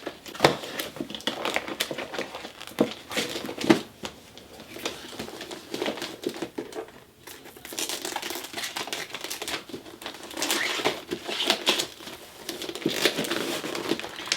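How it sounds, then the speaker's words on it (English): Plastic packaging from a Janet Collection Iman wig crinkles and rustles as it is opened and unwrapped, with irregular crumpling bursts and tearing close up throughout and no talking. "We want to take it out the packaging."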